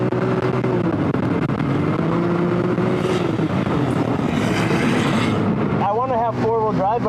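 An off-road car on System 3 SS360 dual sport tires drives across sand, its engine roaring steadily and loud with shifting revs, then rising in sharp repeated revving surges near the end.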